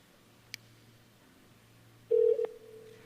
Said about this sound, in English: So this is a real phone call that I'm doing right now.